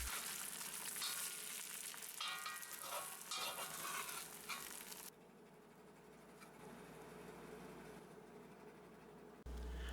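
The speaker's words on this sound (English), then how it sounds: "stir it around so we can sear those tasty crispy bits all through the hash, inside and out" Corned beef hash sizzles and fries in a hot pan while being stirred, a steady loud crackle that drops to a quieter sizzle partway through, with no talking.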